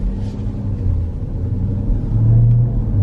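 Jeep Trackhawk revving, a steady low engine rumble swelling near the end with a whining tone on top, close and alone.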